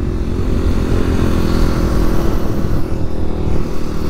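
Kawasaki KLX300 dual sport motorcycle engine droning steadily while being ridden through a neighborhood, loud and close with continuous low rumble and slight throttle swells, no voices.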